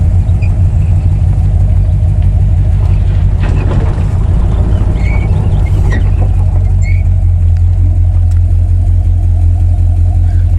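A Chevy 350 small-block V8 swapped into a 1987 Dodge Dakota pulling through the gears, a loud, heavy low rumble that stays constant throughout with a brief roughness midway, recorded close from the cab.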